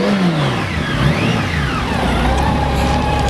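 A 2003 Honda Goldwing GL1800 converted to a trike with a Champion kit, its engine running loud and close with a steady drone and rising, falling pitch as it revs or moves.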